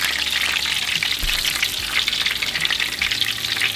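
Onion rings fry in hot oil right after the fish comes out, a dense, continuous crackling sizzle that sounds loud and close, with no voices.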